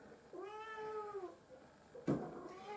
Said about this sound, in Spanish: el gatito que estáis oyendo maullar es mi gatita Buffy